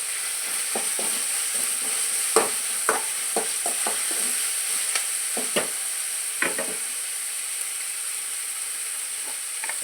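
Chopped ginger frying in oil in a pan, a steady soft sizzle with scattered sharp scrapes and taps from stirring, close and alone without talk.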